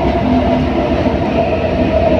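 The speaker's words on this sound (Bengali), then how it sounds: "দেখুন আমরা ব্যান্ডেল লোকালে উঠে পড়েছি" A Bandel local passenger train running, heard from inside the carriage: a loud, steady rumble with a low drone and faint rhythmic rail clatter, with no voices.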